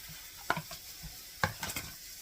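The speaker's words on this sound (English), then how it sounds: "Alright, so now we're going to add that pork." Rinsed canned pulled pork tumbles into a hot pan for a sweet potato hash and gets stirred, with two sharp utensil scrapes and clacks over a soft steady sizzle; no one talks.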